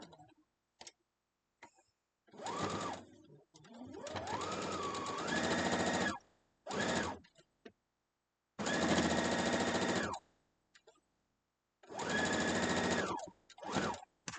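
Sewing machine stitching a broken dishes quilt block, running in several distinct bursts of steady whirring with clicks and pauses between them, close and fairly loud.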